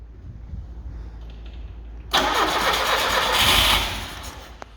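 An engine with the choke pulled is cranked and briefly catches, jumping from quiet to a loud, rough roar for about two seconds before it dies away, close up.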